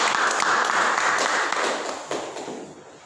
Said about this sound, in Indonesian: Tepuk tangan dulu Pak.